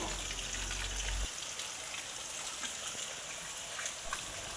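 Heavy rainwater rushes and gushes steadily, a dense hiss of flowing runoff filling a space with nowhere to drain, with a low rumble fading early on.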